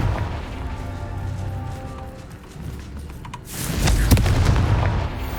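Confringo blasting spell in the video game Hogwarts Legacy: a loud, low booming burst lands about midway and rolls into a dense, crackling roar that holds to the end, over a rumbling game backdrop.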